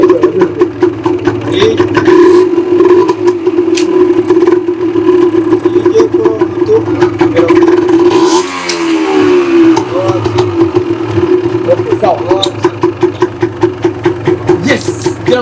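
A motorcycle engine runs steadily in a low, even idle throughout, with a brief change in pitch near the middle as it is revved or shifted, close and loud, with no talk over it.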